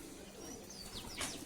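Pigeons near their coop give soft, faint coos and brief chirps over a steady background hiss, with a louder burst of calls toward the end.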